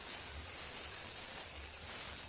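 Steady hiss of steam spraying from an Arctic Steamer ice dam removal system, a continuous broadband rush with a low rumble underneath, close and constant, with no talking.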